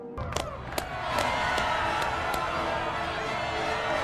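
An arena crowd in a video game roars in a dense, sustained wall of shouting and cheering, with a few sharp knocks at the start before the noise swells and holds loud.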